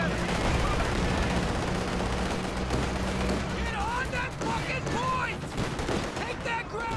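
Heavy gunfire from a video game battle, dense automatic bursts mixed with booming artillery, loud and continuous throughout, while voices call out over the combat and whistling tones sweep through near the end.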